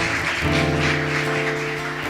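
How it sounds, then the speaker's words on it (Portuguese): A church congregation applauding during a worship service, steady clapping over a sustained organ or keyboard chord that shifts partway through. "Aplauda Ele bem forte."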